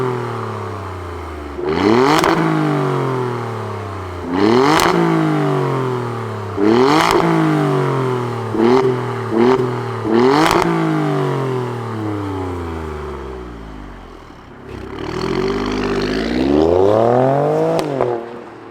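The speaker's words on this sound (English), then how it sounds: "let's fire it up and hear what it sounds like." A 2023 Alfa Romeo Stelvio Quadrifoglio twin-turbo V6 fires up and revs hard several times, each sharp blip rising and falling quickly, then settles into idle before a longer final rev, loud and close with no talking.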